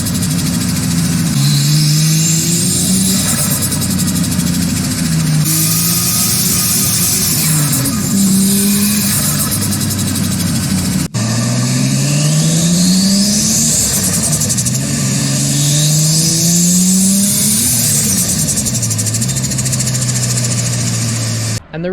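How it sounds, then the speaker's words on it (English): Nissan S14 with a built RB25DET turbo engine and long screamer intake pipe, revving repeatedly with rising and falling engine tones and choppy turbo flutter between pulls, loud and close throughout. "if you guys haven't heard my S14 turbo flutter"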